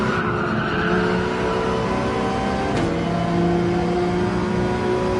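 A race car engine in Gran Turismo 7 accelerates hard, a loud continuous high-revving drone with a brief gear-change dip midway and tire squeal mixed in, no voices.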